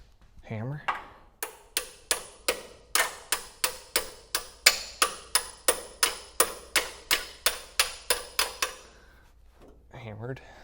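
Hammer blows on an engine part being fitted to a 1977 GMC truck: about eighteen sharp, evenly paced metallic strikes close by, with a brief voice before and after.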